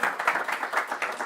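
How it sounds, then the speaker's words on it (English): Audience at a wind power panel event claps for a speaker named Dita, a brief, rhythmic patter of hands in a room. "Another round of applause for Dita."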